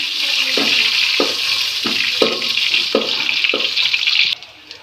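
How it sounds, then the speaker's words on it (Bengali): Onions sizzle loudly in a pan as a tempering for lentils, a steady close hiss broken by regular stirring strokes roughly every half second before the sizzle drops away at the end. "এই যে ভাজা হচ্ছে।"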